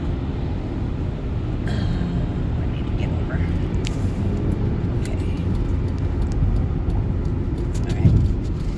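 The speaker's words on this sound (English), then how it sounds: "Got a truck coming up on my left. Pickup truck." Road noise inside a moving vehicle while a pickup truck passes on the left on a road trip to Oklahoma, a steady engine and tire rumble throughout with no clear pass-by peak.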